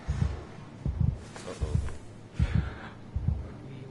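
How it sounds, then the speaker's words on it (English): A heartbeat in the horror video game SOMA, faint low thumps in a slow doubled rhythm repeating across the stretch, with soft breathy ambience between beats. "I can hear a heartbeat."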